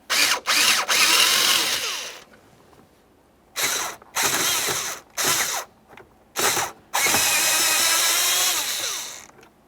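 A hand ratchet removes 7mm bolts from trim panels on a 2005-2010 Chevrolet Cobalt, giving close, loud bursts of rapid clicking that start and stop several times, ending in one long run.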